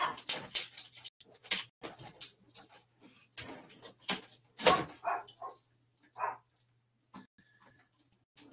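A dog barks repeatedly in a house, with sharp irregular barks and yips in clusters, some loud and close, others fainter, separated by short silences.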